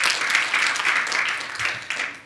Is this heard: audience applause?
yes